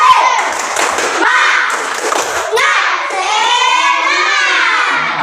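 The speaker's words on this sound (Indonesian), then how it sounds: "marilah kita tepuk semangat" Schoolchildren in a classroom perform a rhythmic spirit clap, quick patterned claps and thumps mixed with loud chanting voices throughout.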